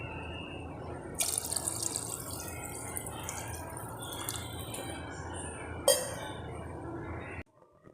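About 1.5 litres of water poured steadily into a pressure cooker pot holding goat trotters for soup, a continuous close splashing stream with a faint clink before it stops abruptly.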